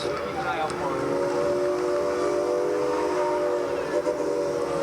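A train rumbles past with a steady, sustained tone and a layered whistle-like drone, fairly close and continuous throughout.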